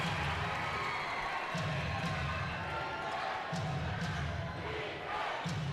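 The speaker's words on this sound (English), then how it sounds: "Crowd reacts to that." A crowd at an NBL Canada basketball game between St. John's Edge and Moncton Magic murmurs and cheers in the background while a commentator talks over it, with a ball bouncing in repeated thuds.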